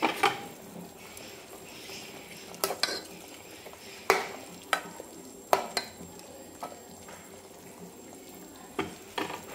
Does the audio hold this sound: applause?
no